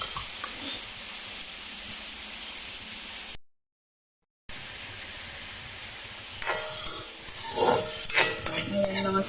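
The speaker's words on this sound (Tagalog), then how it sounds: "Nagigisa ng ating karne." Pressure-cooked meat sautés in its own fat in a pan, a loud steady hiss with a brief dropout, then stirring scrapes and crackles rising near the end, no talk.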